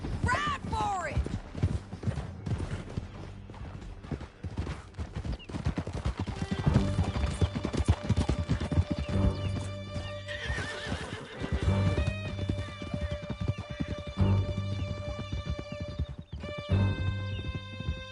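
Horses gallop in Red Dead Redemption II, hooves pounding in a steady clip-clop with whinnies and neighs, loud and close under an orchestral score, with some talk over the ride.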